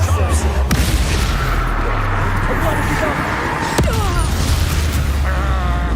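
A fire spell cast in Hogwarts Legacy bursts with a loud whooshing boom over a rumbling low game soundscape, with a sharp crack near the four-second mark and continuing magical crackle after it.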